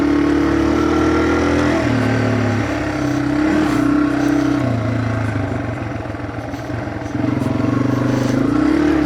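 A Yamaha TW200 single-cylinder motorcycle engine drones steadily as it is ridden along a narrow desert trail, its pitch shifting as the rider changes throttle and gear, close and loud with rough ground and wind noise throughout.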